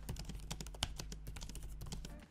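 A Lenovo Legion 5 gaming laptop keyboard is typed on rapidly, producing a dense run of light, quiet key clicks close up, with no one talking.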